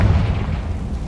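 A Confringo blasting spell explodes in the video game Hogwarts Legacy, a loud deep boom with rumbling low-end energy that sustains without a break through the short moment.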